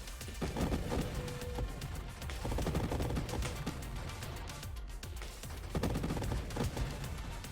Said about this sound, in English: And now I can just explode my blade all over the place.